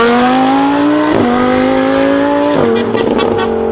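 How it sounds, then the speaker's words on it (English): A fast car blasting past the camera during a filming day: a loud, close engine note climbing steadily through the revs, broken by two quick gear changes before it keeps accelerating. "I think they're getting some good flybys. The car sounds absolutely insane."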